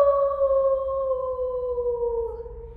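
A person howls like a dingo, one long loud sustained tone that slowly falls in pitch, a voice imitating a wild dog's howl, alone and close.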